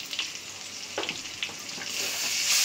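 Ground spices, cumin, salt and ginger-garlic paste fry in a hot pan for a prawn, fish and taro curry, a steady close sizzle with small crackles that grows louder toward the end, no voices.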